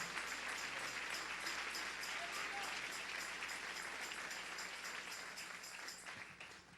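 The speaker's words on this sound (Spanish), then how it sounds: "Dele un aplauso al Rey" A church congregation applauds during a Spanish-language worship service, steady broad clapping from a crowd heard at moderate distance, fading slightly near the end.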